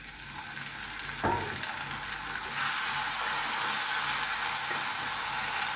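Spices frying in a pan: a steady sizzle and stirring, then a sharp burst as water goes in and the hiss swells into a louder, fuller sizzle that carries on to the end.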